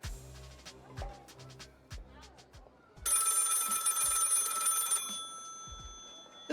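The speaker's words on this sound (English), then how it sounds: "The phone is ringing." Telephone ringing in the video game Lil' Guardsman, a loud electronic bell trill lasting about two seconds, heard after some clicks and thumps, with speech around it.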